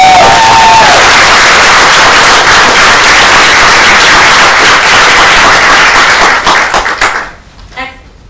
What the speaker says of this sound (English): So let's give them our final, loudest round of applause.